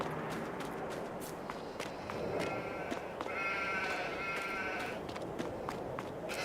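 Sheep in the video game Farming Simulator 22 bleat several times at close range over a steady background of footsteps and game ambience, with the bleats clustered in the middle of the stretch.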